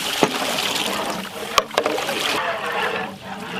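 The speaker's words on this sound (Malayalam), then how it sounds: "വെള്ളം ഒഴിക്കാം" Water pours into a large pot of beef biryani in Kerala, a continuous splashing rush with a few sharp knocks and clanks of the vessel, close and fairly loud.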